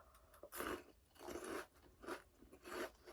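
Crunchy bites and chewing of Korean seaweed chips (gimbugak), four loud close bursts of crisp crackling at a steady pace with no talking.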